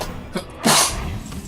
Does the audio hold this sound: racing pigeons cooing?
no